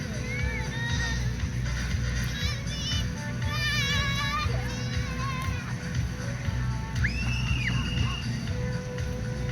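Horses at an outdoor bareback trick-riding show in Killdeer, North Dakota, neigh and whinny in the distance amid a busy arena crowd with chatter and children's voices, and a soft rumble of hooves runs underneath.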